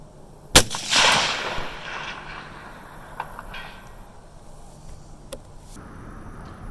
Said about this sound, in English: I'm just shooting a 300 blackout with some really cheap 150 grain ammo